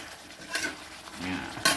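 Brief scraping and clinking of a utensil stirring pork with curry paste and long beans in a pan, with faint sizzling between the strokes, close by and fairly quiet.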